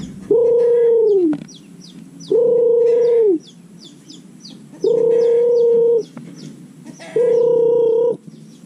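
Chickens on a farm give four loud, drawn-out calls at regular intervals, each one clear and close, with softer chirps and clucks between them.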